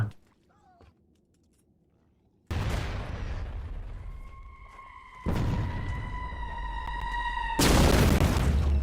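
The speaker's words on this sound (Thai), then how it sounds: "การทิ้งระเบิดแบบนี้ผมรู้สึกว่ามันแปลกๆนะ" Bombing explosions in the Roblox game Shell Shock, heavy booming blasts arriving in loud bursts after a quiet start, with a sustained tonal whine and rumble between impacts.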